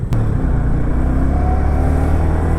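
A red Audi car drives past on an Indian road, a loud close engine roar with low rumble and rising tone that keeps going across the whole moment, with no voices over it.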